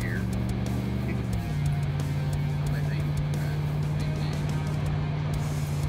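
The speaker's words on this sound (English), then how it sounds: "So my partner in crime's driving over here." A car approaching over rough ground, a steady low engine drone that shifts pitch and settles into a constant hum, with rumbling road noise and voices talking intermittently over it.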